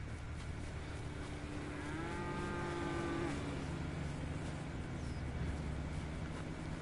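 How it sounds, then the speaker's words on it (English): A cow in a video game lets out a long, loud moo with a falling pitch after being struck, sounding over a steady engine-like background drone that continues after the call ends. "I just hit a cow."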